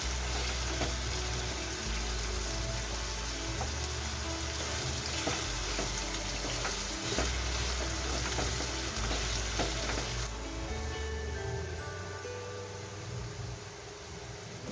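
Potato masala with chopped potatoes frying over a high flame, giving a steady loud sizzle with stirring scrapes throughout and a slight easing of the hiss near the end.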